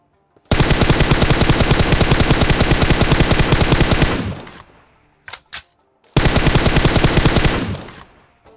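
Rapid automatic gunfire in a battle royale video game, two long loud bursts of closely spaced shots about four and two and a half seconds long, separated by a couple of short single shots and a brief silence.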